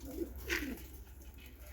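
Pigeon giving a short, soft coo, faint and close, set against low background noise.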